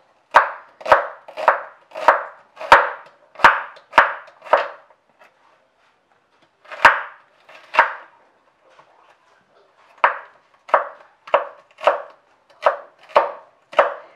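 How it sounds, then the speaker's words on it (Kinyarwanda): A knife chops a piece of onion on a board while cooking, giving loud, close, sharp rhythmic chops in quick bursts separated by short pauses, with no talking. "Iki nacyo ni igice cy'igitunguru, nacyo ndagikata nk'ibisanzwe."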